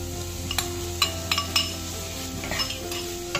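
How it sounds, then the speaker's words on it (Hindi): Mawa roasts in ghee in a kadhai while a spoon clinks and scrapes against the metal in soft, irregular strokes, over a faint low sizzle, with no talking. "बस इसमें मावा डाल दो। अच्छा, मावा भून लेंगे।"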